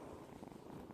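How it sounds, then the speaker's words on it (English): A sweet cat named Beatrix purrs steadily and softly up close, a continuous low rumble with no talking over it. "She just immediately started purring."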